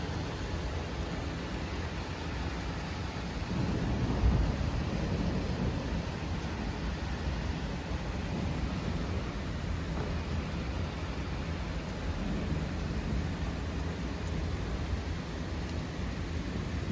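Light rain falls as a steady, moderately faint hiss for the whole stretch, with a low rumble of distant thunder rising briefly in the early part.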